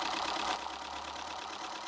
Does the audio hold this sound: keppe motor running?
yes